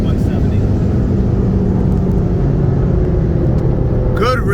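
A built 2018 Audi TTRS with an IMS850 turbo kit on E85 and a built 2003 Subaru WRX bugeye with a PT6466 turbo accelerate in a roll race, heard as a loud, continuous engine rumble with a brief voice near the end.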